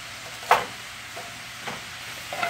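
Chopped vegetables sauté in a pan with a soft, low sizzle, marked by a sharp clink near the start and a few faint stirring scrapes; no speech.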